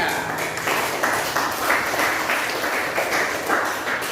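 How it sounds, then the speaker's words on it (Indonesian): Steady applause from an audience, a dense wash of clapping that continues throughout without talk. "beri tepuk tangan untuk kelompok 3"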